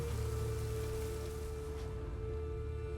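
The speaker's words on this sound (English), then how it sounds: "It just rains and rains." Steady rainfall in The Witcher 3, a soft continuous patter under a low game ambience hum, faint and unbroken throughout.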